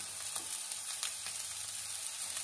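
Chopped green chilli and mixed vegetables such as carrot and cauliflower frying in a pan for a quick vegetable soup, a dense, even sizzle with faint stirring ticks.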